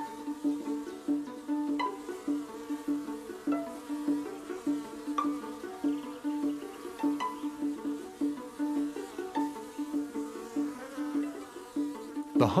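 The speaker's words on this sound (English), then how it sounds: "Now that the bees have settled in the woods, they search out honeydew" Honeybees foraging for honeydew in woodland, a dense steady insect buzz with pulsing swells throughout, no voices.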